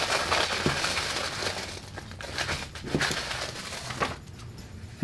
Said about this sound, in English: So we have some tissue paper.